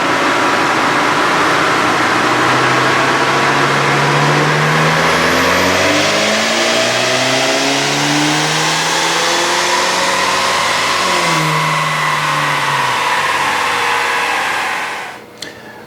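A 2019 Ford Ranger with raised boost and timing runs a dyno pull, its engine loudly climbing through the gears in repeated rising sweeps, then cutting off abruptly near the end.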